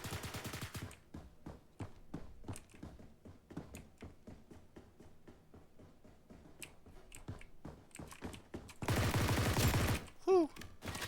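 STGW 90 rifle fire in Blackhawk Rescue Mission 5, a long run of sharp shots and bursts at varying distance, fairly quiet overall, ending in a loud noisy rush and a short whine.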